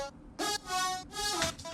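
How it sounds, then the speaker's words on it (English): Brass synth lead layer in an electronic music production, playing a short phrase of sustained, bright harmonic-rich notes with gaps between them, moderately loud and alone. "the next layer is a brass sound, which sounds like this."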